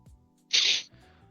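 A single sharp sneeze, loud and close, with a short hissing burst that cuts through quiet background sounds from a League of Legends game.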